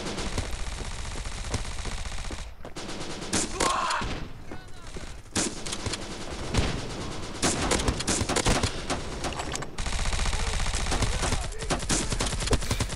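Shotgun blasts ring out in the first-person shooter Bullet Force, mixed with heavy surrounding gunfire. The shots are loud and irregularly spaced across a dense, noisy firefight.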